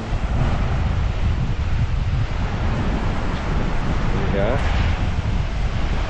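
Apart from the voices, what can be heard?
wind at the beach, Teluk Mahkota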